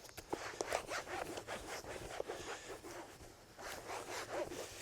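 A towel rubs dry a freshly washed dirt bike seat, making quiet, rhythmic swishing strokes in quick succession, close by and without speech.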